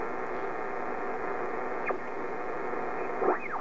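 Drake TR-4Cw ham radio transceiver hisses steadily through its speaker while receiving on the 40-meter band in the evening, with faint sliding whistles of tuning or interference over the even static.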